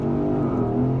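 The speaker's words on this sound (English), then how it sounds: "hold my foot on the brake hard, pin the throttle, launch control is active, gonna wait to build up the boost, and let it go" A 2025 Porsche Cayenne Turbo E-Hybrid held on launch control, its engine droning at a steady high pitch as boost builds before the launch, loud and continuous with no voices.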